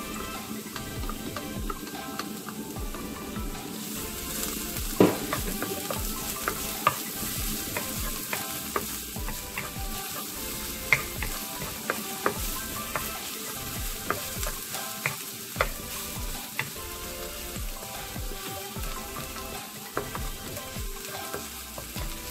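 Garlic fries in hot oil in a pan, giving a constant close sizzle broken by frequent sharp clicks and scrapes of stirring.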